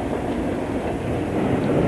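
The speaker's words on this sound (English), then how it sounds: "I've got a high-speed train and all sorts of things going past me here at the moment" A high-speed train rushes past on a British railway line in 1989, giving a loud, close, continuous roar of wheels and rail clatter with no voices.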